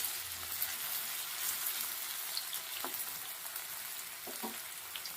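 Potato pieces fry in hot oil in a pan, a steady, soft sizzle with a few faint stirring clicks and no talk.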